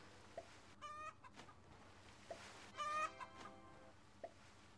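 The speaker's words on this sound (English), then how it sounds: "This one's going to be a long one with this chicken boss." Chicken boss in the Roblox game Egg Farm Simulator, clucking and squawking in two sharp bursts with a few softer clucks between, faint game-audio level and no talk.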